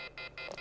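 A telephone rings in a short electronic trill, three quick bursts separated by brief gaps, clear and fairly close, with no speech.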